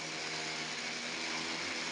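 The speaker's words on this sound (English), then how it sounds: "we had to drill holes in the concrete slab" A steady, continuous mechanical drilling whine and grind as holes are drilled into a concrete slab ceiling, constant in level throughout, with no pauses or voices.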